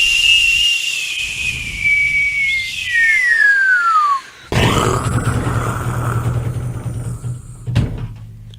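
A man whistles alone, a long sliding tone that drops steadily in pitch, then gives way to a loud, noisy blast and a rumbling crash, as at a live performance by a bluegrass band.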